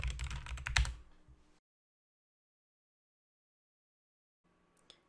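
Someone types a terminal command on a computer keyboard during an Ubuntu software install, a brief burst of close, quick key clicks that stops abruptly, followed by silence and a faint tap near the end.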